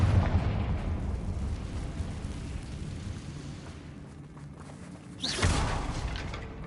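Confringo fire spell explosions in Hogwarts Legacy, a dull rumbling boom at the start and another sharp burst near the end over a continuous low roar.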